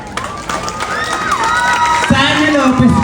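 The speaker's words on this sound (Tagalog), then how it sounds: "Ba't di po natin sabay-sabay na palakpakan at hiyawan?" Pageant audience at a national costume competition cheering and shouting with scattered clapping, a dense crowd roar with rising whoops and voices close by.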